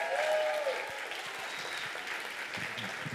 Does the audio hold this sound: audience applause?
yes